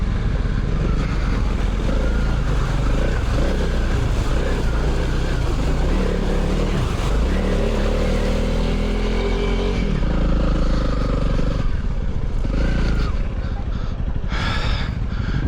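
Honda CRF 300 Rally motorcycles ride through a water crossing, with several engines throbbing loudly and close by, along with splashing water, rising revs and clatter.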